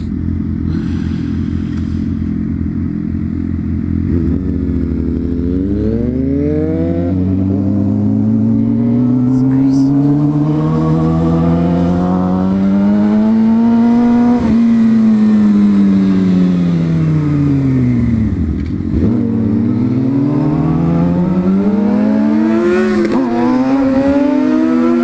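A sport bike motorcycle accelerating on a commute, its engine rising in pitch through several gears with brief drops at each shift, loud and close, a steady roaring whine with wind noise and no talking.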